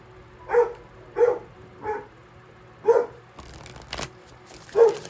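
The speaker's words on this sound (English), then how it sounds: "Hear that dog barking?" A roommate's dog barks indoors in the background, about six single barks spaced roughly evenly apart, moderately faint, with quiet room noise and some handling rustle between them.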